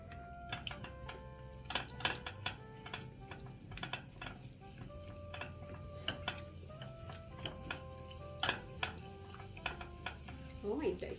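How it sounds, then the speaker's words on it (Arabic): Three or four garlic cloves sauté in a little oil in a pot for an eggplant-roll sauce, giving a steady close sizzle broken by frequent sharp clicks and taps of a utensil stirring against the pot. "معايا حله فيها شويه زيت، حط عليكي 3 4 فصوص ثوم، هي بس تشويحه كده."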